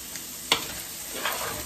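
Asian fried rice being stir-fried for dinner, a steady close sizzle of hot oil with a couple of spatula scrapes against the pan, no voices.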